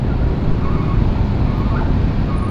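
Steady, loud rumble of congested road traffic in Cimahi, a dense wash of engines and wind noise with no distinct horns or voices standing out.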